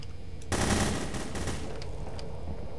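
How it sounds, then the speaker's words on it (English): Gunfire in the multiplayer game The Hidden, a sudden burst of rapid automatic shots starting about half a second in and rattling on for roughly a second before fading. "I don't know where you guys are shooting, though."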